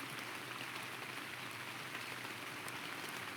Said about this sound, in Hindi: यहाँ पे रेन वाली साउंड है